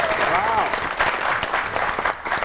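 Studio audience clapping steadily at a televised comedy show, a dense, even burst of applause that runs throughout while a voice speaks over it.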